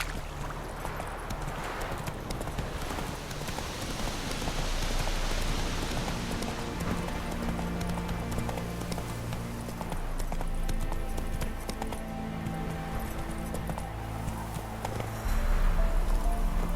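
A horse gallops in The Witcher 3 with steady, rhythmic hoof clip-clop close by, accompanied by soft ambient game sounds and no talking.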